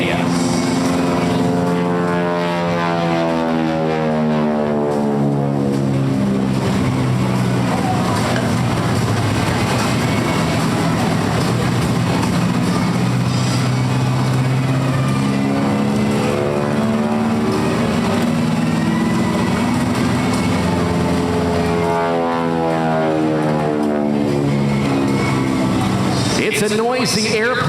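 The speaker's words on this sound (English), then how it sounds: "That loud snarling sound you hear, not so much the engine, but rather those prop tips going supersonic" SNJ trainer with a nine-cylinder Pratt & Whitney R1340 radial engine flying at a beach air show, its propeller tips giving a loud rasping snarl that rises and falls steadily as the plane passes, with continuous announcer commentary over it.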